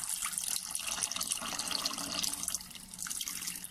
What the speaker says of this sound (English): there's the bottles, they're going in the sterilising water